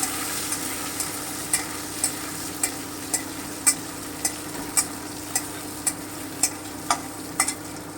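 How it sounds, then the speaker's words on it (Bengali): Potato pieces frying in oil in a wok, a steady close sizzle with regular sharp ticks of a utensil stirring and scraping about once or twice a second, no voices. "প্রথমে আলুটাকেই আমি ভেজে নিচ্ছি হালকা ব্রাউন করে কোনো লবণ দিচ্ছি না বা হলুদও দিচ্ছি না জাস্ট ভেজে নিচ্ছি"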